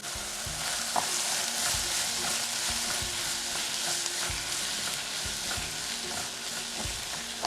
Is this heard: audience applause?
no